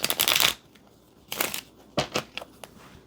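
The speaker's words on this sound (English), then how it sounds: "Pick who will be the dealer to shuffle the cards." A deck of Phase 10 playing cards is shuffled in several short riffling bursts, close and crisp, with brief pauses between, no talk.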